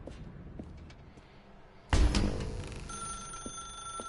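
A video game telephone starts ringing suddenly after a stretch of quiet ambience, loud and sustained with a harsh bell-like tone that carries through to the end.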